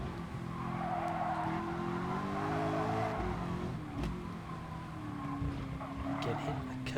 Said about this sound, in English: Hitting the curb too hard on both sides there